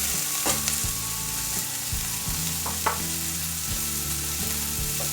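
Green beans dropped into hot oil for a potato and bean curry, sizzling loudly and steadily up close, with the clatter and scrape of stirring running throughout.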